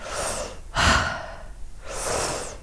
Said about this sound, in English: Just continue breathing.